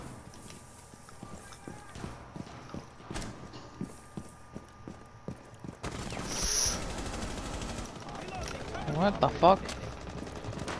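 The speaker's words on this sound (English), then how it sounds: "stop shooting me" Rapid gunfire in the Rainbow Six tactical shooter video game, sharp repeated shots in quick bursts, followed by a louder stretch of game noise with a voice speaking over it.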